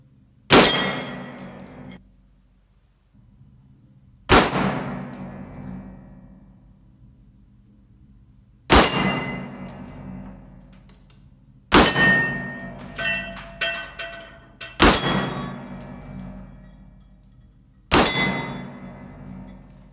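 Six loud shots from an antique-finished Uberti Colt SAA .45 revolver at a range, each a sharp crack followed by a long ringing clang off steel targets, spaced a few seconds apart with no talking.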